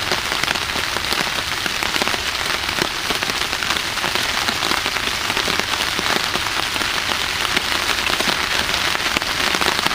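Heavy rain pouring steadily in a forest at night, a dense, continuous hiss of drops striking leaves and surfaces with no letup, close and loud, no voices.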